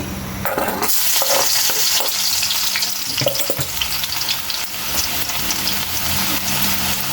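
Chopped garlic drops into hot oil and erupts into a loud, dense, continuous sizzle that crackles steadily, close up and with no voices.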